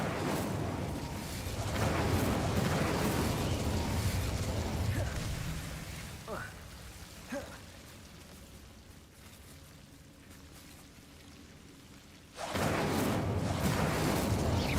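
A fire spell cast in the video game Hogwarts Legacy: a loud, dense roaring whoosh with a few short pops and crackles. It dips to a quieter stretch midway, then surges back strongly near the end.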